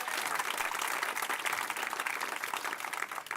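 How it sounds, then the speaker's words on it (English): An audience at a centennial celebration at a community house gives a steady round of applause that holds throughout, dense and even. "let's give another round of applause to Ethan"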